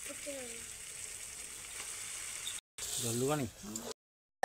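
Pointed gourd that has already been fried goes into a hot pan and is stirred, giving a steady close sizzle. A voice speaks over it, then the sound cuts out briefly and returns.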